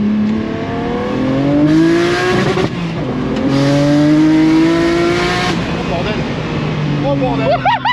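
A 1000 hp BMW 1 Series being warmed up gives loud, close revs, rising and falling engine tones with a turbine-like whine, while people talk and exclaim over it.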